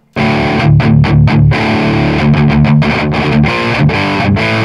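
Heavily distorted metal guitar through a Flamma FX200 into a 1964 4x12 cabinet plays loud, dry chugging riffs with tight palm-muted stops and sustained chords, alone and close.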